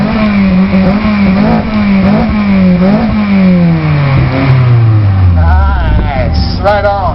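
A Toyota Matrix with a custom mid pipe revs loud and close, with the exhaust tone climbing and falling several times before a long descending pull. Voices talk underneath the engine throughout.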